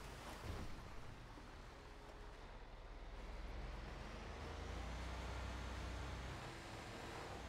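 The Brickade armored truck in GTA 5 Online drives along with a steady, low engine rumble and road roar that swells slightly and holds without any talk.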